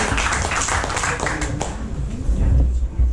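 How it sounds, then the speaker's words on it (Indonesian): A church congregation at a Christmas service claps together in dense, steady applause with mixed voices underneath, filling a large room. "Tepuk tangan yang luar biasa untuk Tuhan kita."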